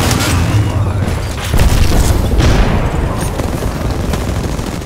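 Heavy gunfire in the Apex Legends video game, loud bursts of automatic shots with booming impacts, dense and continuous throughout.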